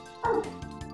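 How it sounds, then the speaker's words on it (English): A dog lets out one sharp bark followed by a couple of softer yips, fairly close and loud against an otherwise quiet indoor room during a game livestream. "I do apologize for the barking in the background."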